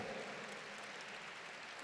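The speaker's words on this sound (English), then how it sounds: "Give these guys a round of applause, please." A gala crowd at a Sarcoma Foundation of America fundraiser gives a round of applause, a continuous, even wash of clapping heard faintly, as if from a distance across the room.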